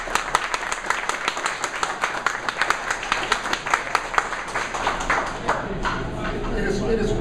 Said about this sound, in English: would you give Mr. Steinlight a rounding applause?